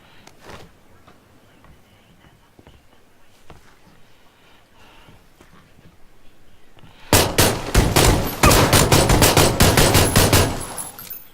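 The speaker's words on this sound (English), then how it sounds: "So there's a little bit of heavy gunfire down there" Heavy gunfire in PlayerUnknown's Battlegrounds: scattered faint shots at first, then a loud, rapid automatic barrage of dense cracking bursts that keeps firing to the end.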